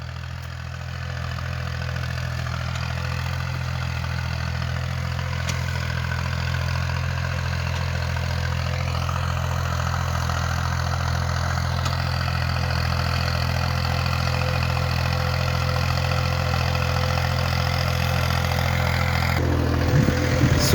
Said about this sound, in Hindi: ट्रैक्टर चल रहा है धड़ाधड़।